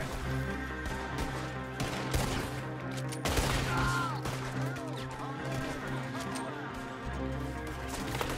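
Gunfire in Red Dead Redemption 2 cracks out in a few sharp, loud shots amid a busy game soundscape with hooves and ambient clatter.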